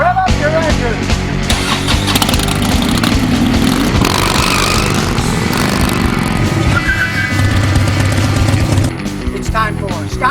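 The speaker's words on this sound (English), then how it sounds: "Rev up your engine." A car engine revs loudly and close in a rough, continuous drone that stays steady for about nine seconds before cutting off abruptly.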